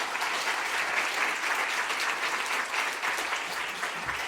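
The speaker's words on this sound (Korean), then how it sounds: "우리 뜨거운 박수로 환영하겠습니다" A church congregation at Sunday worship gives warm applause to welcome pastors, with a full, steady roar of many hands clapping that holds evenly throughout.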